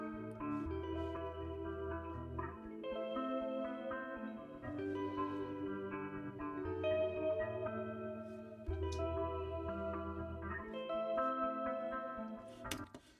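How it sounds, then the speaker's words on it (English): Dreamy, dark synth pads from the Native Instruments Realm plugin layered with guitar in a deep trap beat, sustained reverberant chords shifting every couple of seconds, steady and moderately quiet. "Luckily, I have the Realm VST plugin from Native Instruments"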